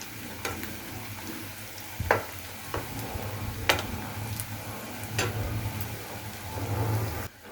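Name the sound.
pitha frying in oil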